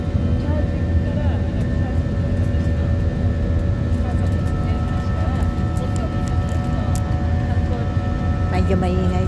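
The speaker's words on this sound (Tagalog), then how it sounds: "Medyo maingay itong eroplano nila." Constant, loud drone of a passenger airplane's engines heard from inside the cabin in flight, a steady hum that continues throughout with a voice talking over it.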